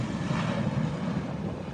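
An airliner rolling past on its takeoff run at an airport, a steady, loud, broadband engine roar with wind noise on the microphone and no voices.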